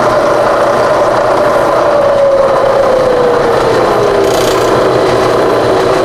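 A milling machine spindle turns slowly in low range, at around 50 RPM, while set up for drilling large holes. It makes a steady, continuous mechanical whir with a tone that slowly drifts downward, and no one speaks.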